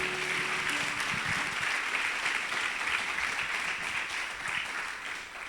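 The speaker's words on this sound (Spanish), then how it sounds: "Dale un fuerte aplauso al Señor." A church congregation claps loudly together after a call to applaud the Lord during a Spanish-language sermon, a dense, steady wash of many hands that fades slightly at the end.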